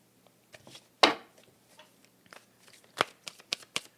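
Art of Manifestation tarot cards being shuffled close up, with a sharp riffle burst early and a run of crisp card slaps and flicks toward the end over near silence.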